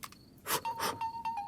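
A phone ringtone plays indoors, a melodic electronic tone pattern with bright bursts and a sustained note, loud and close, heard alone with no talk over it.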